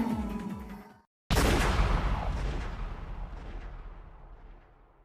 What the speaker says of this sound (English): there was a loud bang from a gun